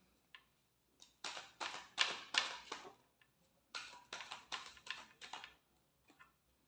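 A deck of tarot cards being shuffled, giving bursts of quick riffling and flapping in several rapid runs, close and moderately loud with short pauses between.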